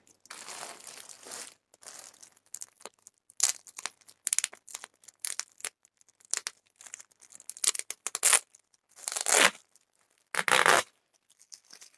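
Packing tape being ripped off the roll while packing clothing orders for shipment, heard as several sharp, close tearing bursts with crinkling plastic handling between them, with no talk.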